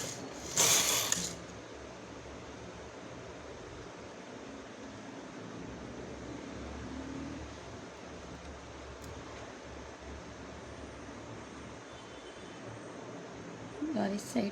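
A knitting machine working a baby cap gives a quiet, steady mechanical rattle and ratcheting as the carriage runs, with louder clatters at the start and end and a person talking over it.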